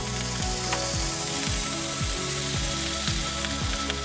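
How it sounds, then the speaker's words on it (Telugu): Garam masala, garlic and green chilli paste, pav bhaji masala, coriander and kasuri methi sizzle steadily in butter for Mumbai street-style pav bhaji, a soft continuous hiss running under louder background music. "ఇవన్నీ బటర్లో ఫ్రై చేసుకోండి 5 సెకండ్ కోసం"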